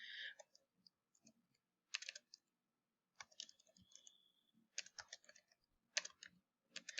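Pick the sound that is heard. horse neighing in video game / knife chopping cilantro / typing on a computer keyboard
typing on a computer keyboard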